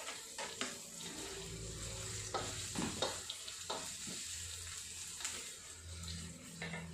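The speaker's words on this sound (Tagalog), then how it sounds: "Okay, lagay na natin yung ating onion." Chopped onion sizzles steadily in a frying pan while it is stirred, with scraping clicks and soft splashes over a continuous hiss, cooking for a special spaghetti sauce.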